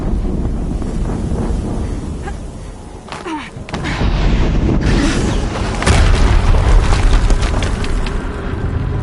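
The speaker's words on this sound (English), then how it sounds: "Another explosion." Deep booming explosions rumble in the video game Horizon Zero Dawn, loud low blasts swelling and fading over several seconds amid windy roaring noise.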